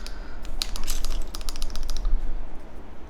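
Typing on a Qwertykeys QK100 Mk2 mechanical keyboard with foam removed, a quick burst of muted, clacky keystrokes up close over room noise, fading out after about two seconds.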